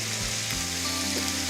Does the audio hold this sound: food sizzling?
yes